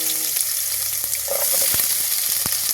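Chopped large onions sautéing in hot oil, giving a continuous close sizzle with occasional crackles and a few light stirring knocks, no talking.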